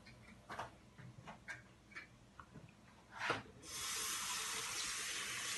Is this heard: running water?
yes